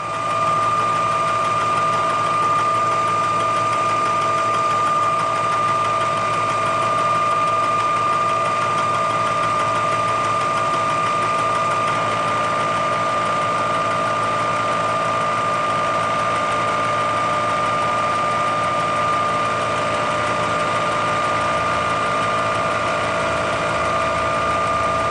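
A light, slow machining cut of a few thousandths on a cast iron straight edge makes a steady, even mechanical hum with a constant tonal whine that runs unbroken throughout, with no voices.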